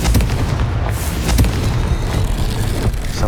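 Confringo spell explosions crash and boom again and again in Hogwarts Legacy, dense and loud, with sharp hits near 0.7, 1.4 and 2.9 seconds over a constant rumbling roar.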